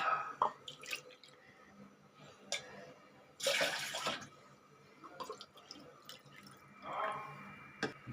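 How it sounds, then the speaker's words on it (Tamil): Water splashes and trickles in short bursts into a pot, with a louder gush partway through, close by in a quiet room. "இப்போ இதில் ஒரு 3 கப்பு தண்ணி விடுவோங்க."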